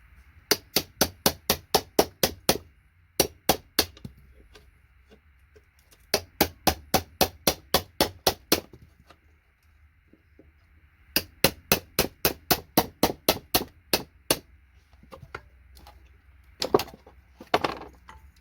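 Three bursts of rapid, evenly spaced sharp knocks from a rusty chisel striking bulky aluminium capacitors off a circuit board, each run of about ten close, loud hits, followed by a few scattered scraping clatters.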